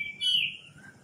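A bulbul sings among flowering gulmohar, sonmohar and silk-cotton trees, a bright whistled phrase standing out clearly over a soft low rumble of background noise, then trailing off into a fainter note.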